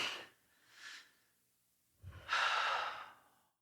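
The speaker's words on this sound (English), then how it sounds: "Okay, nice deep breath." A person takes a slow deep breath close to the mic: a short inhale and exhale, a pause, then a longer, fuller breath with an audible airy rush, no talking.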